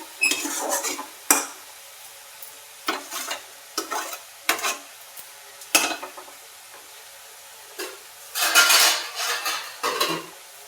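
Cumin and chopped banana flower stirred in a pan: a series of separate scraping, clinking strokes of a spoon against metal, close and fairly loud, with brief pauses between them and a denser burst of stirring near the end.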